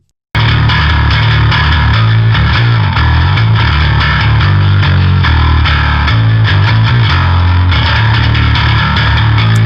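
Distorted electric guitar playing continuously with a swirling, phasey effect, loud and dense throughout.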